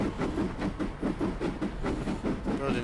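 A Castle Class steam locomotive in Train Simulator on the 1950s Riviera Line, rolling steadily with a rhythmic pulsing chuff and wheel clatter, fairly loud and continuous without talk.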